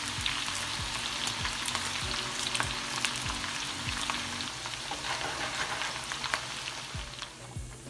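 A medium onion and two large green chillies fry in oil in a pan, giving a dense, crackling sizzle with rhythmic stirring scrapes. The sound stays close and steady, then eases slightly near the end.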